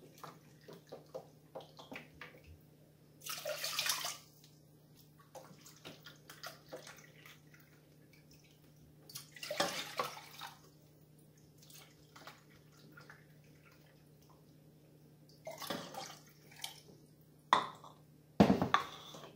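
Water running into a pot filled with four cups to boil, several short tap bursts and splashes at close range separated by quiet stretches with small clinks and drips, under a faint steady hum.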